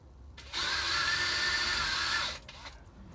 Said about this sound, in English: so I've only got to drill down about 1/4 of an inch, probably just through the rosewood